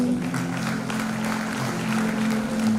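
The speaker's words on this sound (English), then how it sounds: "Ladies and gentlemen, please give a round of applause" Audience applause at a girls' high school annual day function, a soft, steady patter of clapping from a crowd welcoming a speaker onto the stage, with a low hum underneath.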